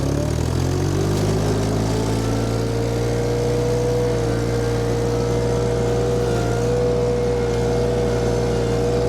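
VMENG 25HP mulcher engine running steadily at high RPM as the drive re-engages, a loud, continuous close-up drone with a slight pitch rise partway through.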